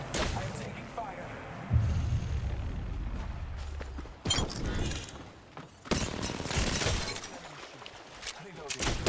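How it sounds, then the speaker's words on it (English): Gunfire in the video game Apex Legends comes in bursts, a heavy volley around the middle and more sharp shots later, mixed with game voices and effects at moderate loudness. "I am taking fire."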